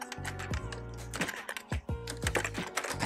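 Fingers typing on a computer keyboard set up with a Raspberry Pi 4, a quick irregular run of close, crisp key clicks with short pauses.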